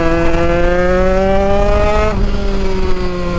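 A Yamaha DT 100cc two-stroke motorcycle with a competition engine accelerates hard, its loud buzzing whine climbing steadily in pitch before dropping sharply at a gear change, then rising again.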